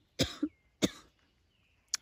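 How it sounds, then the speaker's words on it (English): A person coughs in a garden, two sharp close coughs followed by a short third one, with quiet pauses between them. "I should take one of my herbs for cough"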